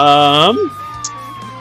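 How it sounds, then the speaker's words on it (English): A police siren in the video game Doki Doki Vigilante gives a loud, steady wail, then slides downward and fades into a faint, lingering tone. "As we run, I begin to hear sirens in the distance."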